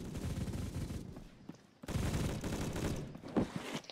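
Rapid automatic bursts from an MG42 machine gun in the game Phantom Forces, two long sustained strings of fire separated by a brief gap, loud and close with no talking.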